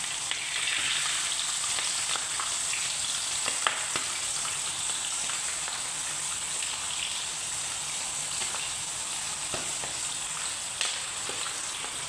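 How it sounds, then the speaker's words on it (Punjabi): Omani chicken mekhfous sizzles steadily in a pan, a continuous dense hiss with faint crackles, alone and unbroken throughout. "ਇੱਕ ਪਾਸੇ ਤਲ ਹੈ ਦੂਜੇ ਪਾਸੇ ਨੂੰ ਅੰਦਰ ਪਲਟ ਦੇਣਾ"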